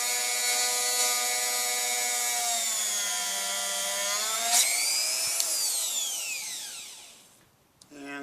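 A power tool spins at a steady high whine while drilling into wood, pitch shifting as pressure is applied, then winding down to a stop near the end.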